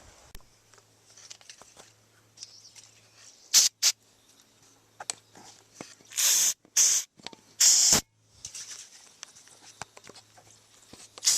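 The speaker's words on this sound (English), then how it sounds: "Now I'm going to spray a little bit of ether in it" Ether sprayed from an aerosol can into the engine of a 1987 Honda Super Magna 700 motorcycle: several short, loud hissing bursts, two brief ones and then three longer ones, close by against quiet background noise.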